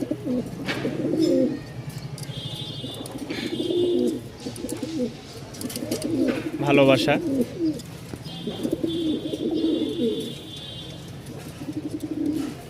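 Pigeons coo repeatedly in low, throaty phrases close by at a pigeon seller's, many birds together, while a person speaks briefly among them.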